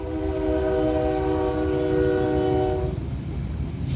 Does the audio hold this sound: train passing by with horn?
yes